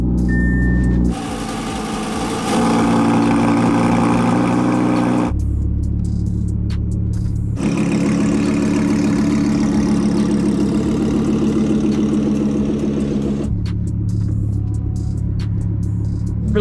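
A car engine idles with its exhaust valves open, a loud, deep rumbling drone that shifts in level between sections, close by and with no talking.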